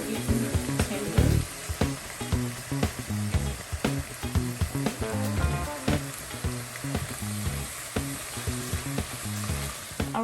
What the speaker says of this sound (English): spinach is cooking down, vegetables are getting tender.